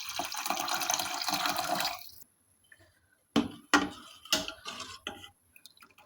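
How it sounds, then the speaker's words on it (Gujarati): A cup of water poured into drumstick soup in a pot: a steady splashing pour for about two seconds, then it stops and a few sharp clinks and taps follow. "1 કપ પાણી ઉમેરી દઈએ"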